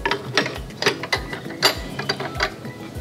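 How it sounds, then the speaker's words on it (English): A wrench ratchets to adjust the cutting height on a reel mower used for a putting green, giving close, repeated clicking bursts in an uneven rhythm. "I can take my wrench and lower it just ever so slightly and lock it in"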